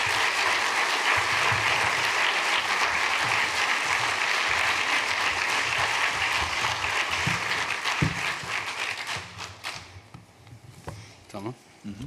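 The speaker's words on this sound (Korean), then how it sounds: "목사님 올라오실 때 우리 함께 환영의 박수로 함께 맞아주시면 감사하겠습니다" A church congregation claps steadily to welcome a guest pastor at a Sunday service, loud continuous applause for about eight seconds before it thins out into scattered claps and a few distant voices.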